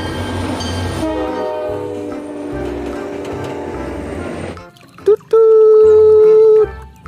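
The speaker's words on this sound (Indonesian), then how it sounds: "Wadidaw, lokomotif kereta api." A toy train locomotive rumbles and clatters steadily for several seconds, then goes quiet before a short beep and a loud sustained horn blast, close and with no talking.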